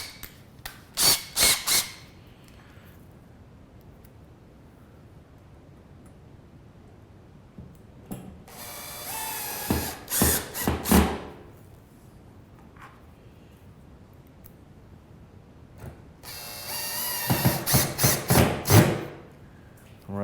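Bursts of a power drill driving screws with a Phillips bit into a ceiling light bracket, three separate runs of buzzing and clicking separated by quiet pauses, close by.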